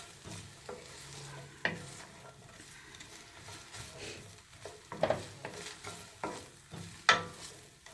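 Onion gravy with sausage cooking in a pan, a soft, quiet sizzle running under repeated scrapes and clinks of a utensil stirring against the pan.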